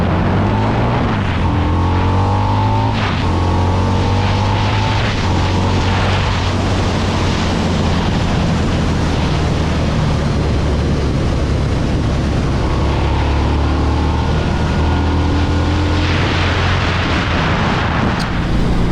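A Harley-Davidson V-Rod 100th Anniversary motorcycle with its stock exhaust rumbles steadily and loud throughout, a constant deep engine drone with slight shifts in pitch and no talking.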